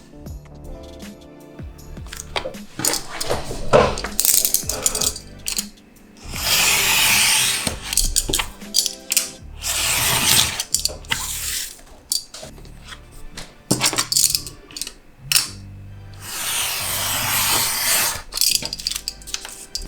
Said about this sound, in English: trim off the bottom end first and then the side